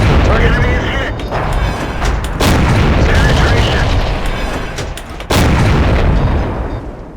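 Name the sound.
T49 tank gun firing in tank video game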